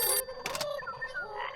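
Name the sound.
phone ringing in a video game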